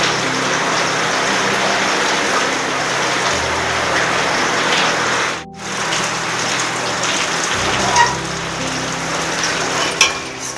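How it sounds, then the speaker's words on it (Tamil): Heavy rain falls steadily outdoors with a dense, constant hiss of drops on surfaces. There is a brief dropout midway, then the downpour resumes at full strength. "மழையும் நல்லா பெஞ்சிட்ருக்கு."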